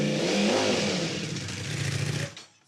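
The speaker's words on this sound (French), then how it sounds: "ce passionné de grosses cylindrées a sorti ses motos de compétition" A high-revving competition motorcycle running on superethanol, used in the French championship, accelerating nearby with a rising, shifting engine whine that drops and fades at the end.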